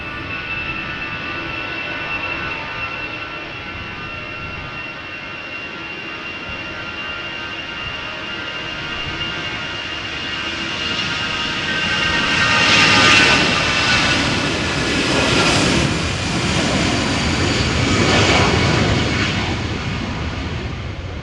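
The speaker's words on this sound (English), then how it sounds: "Airbus A320-200. 25 years old, this airplane." A 25-year-old Airbus A320-200 airliner departs in a crosswind at Amsterdam Schiphol, its engines a sustained, loud roar with a steady whine that swells and grows rougher midway, then pulses as it passes, with no talking.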